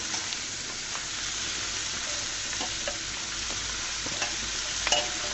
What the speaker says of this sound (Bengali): সুন্দর মতো তেলের সাথে নেড়ে চেড়ে মিশিয়ে দিচ্ছি